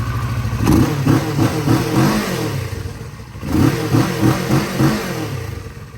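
A sport motorcycle engine sits idling with a low, steady rumble, then is blipped into two strong revving bursts that rise and fall close by; no one speaks.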